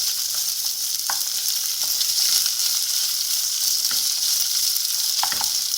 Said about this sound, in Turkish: Şimdi şöyle biraz kavuracağız bunları.